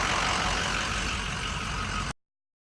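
A diesel van engine idles nearby with a steady low rumble and throb, running evenly for about two seconds before the sound cuts off abruptly into silence.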